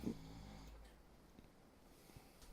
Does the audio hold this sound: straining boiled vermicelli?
no